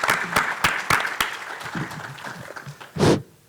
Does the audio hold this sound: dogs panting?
no